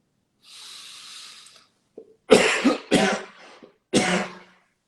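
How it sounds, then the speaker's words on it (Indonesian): A person demonstrates an effective cough as a breathing exercise for Covid-19 patients: a long breathy exhale, then a few forceful coughs in separate bursts, close and clear, no talking. "kita lakukan batuk efektif. Saya contohkan."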